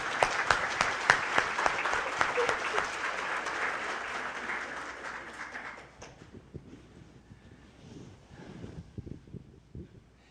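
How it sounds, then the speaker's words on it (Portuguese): Audience applause at a spiritist congress fills the hall loudly and steadily for about six seconds, then fades into scattered claps and room noise. "vamos bater palmas para Emmanuel"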